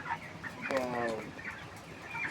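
Broiler chickens, a flock of about 1000 sixteen-day-old birds, cluck softly in short bursts, with a brief louder squawk in the middle, against a steady background hum.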